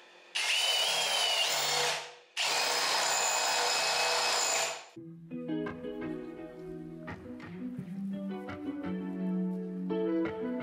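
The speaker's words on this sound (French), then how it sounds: "Espérons que ça perce, que ce soit pas un mur de bâtard." A power drill bores into a bathroom wall during renovation work in two loud, sustained bursts. Clattering and knocking noises follow once the drilling stops.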